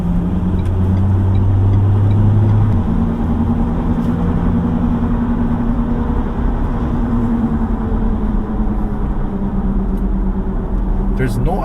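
A 2018 Ford Ranger Wildtrak 4x2 pickup engine under kickdown acceleration, a low droning hum whose pitch shifts upward as it pulls, heard from inside the cab beneath someone talking.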